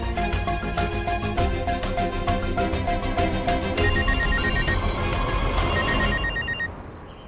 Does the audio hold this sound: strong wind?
no